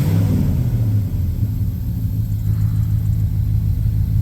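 A 1967 Pontiac Catalina V8 idles close by with a loud, even low rumble and a steady throb throughout. No voices are heard over the engine.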